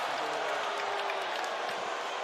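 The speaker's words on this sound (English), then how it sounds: "Crowd didn't like that late shot from Jędrzejczyk." An arena crowd at a UFC fight reacting to a late shot, a dense continuous roar of many voices with scattered shouts, loud and steady throughout.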